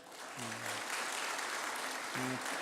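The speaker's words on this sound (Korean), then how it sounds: "우리 인사하실 때 한번 박수로 격려하시겠습니다" A church congregation at a Sunday worship service applauds to encourage a departing minister, a soft, steady wash of many hands clapping at a distance, with a faint tone sounding briefly twice.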